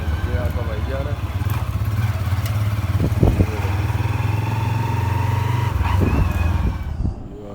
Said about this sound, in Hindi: ये आपका बाइक जा रहा है